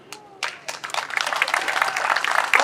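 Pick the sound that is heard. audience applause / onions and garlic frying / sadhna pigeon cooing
audience applause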